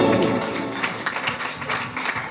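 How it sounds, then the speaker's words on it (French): Audience applause in a live studio show, a steady patter of many hands clapping at moderate volume that carries on evenly without a voice over it. "on applaudit Philippe"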